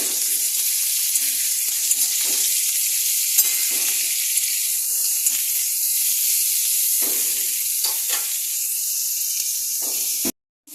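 Potatoes fry in a pan with a loud, continuous close-up sizzle and hiss, marked by occasional scraping stirs and soft bumps, before the sound cuts off abruptly at the end.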